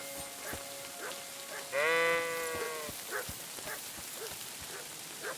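A lost ram in Kingdom Come: Deliverance II gives a single loud, wavering bleat, heard clearly over a quiet outdoor background with scattered soft clicks and thuds.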